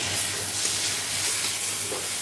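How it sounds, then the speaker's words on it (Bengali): Fenugreek greens fry in a wok with a steady, loud crackling sizzle and hiss of hot oil, close and continuous, with faint stirring and no voices. "দেখো শাক ভাজাটা প্রায় হয়েই গেল"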